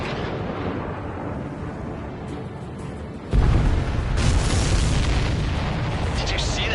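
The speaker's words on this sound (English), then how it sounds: "Did you see that explosion?" An explosion in the Ace Combat 7 combat flight game lands as a sudden loud boom partway through, followed by a sustained rumbling roar that stays dense until the end, over a steady engine drone.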